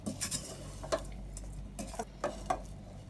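Kale leaves being stirred in a pan for a Sri Lankan mallum, with several light scraping taps and soft clinks of a utensil against the pan spread out over a few seconds, fairly quiet.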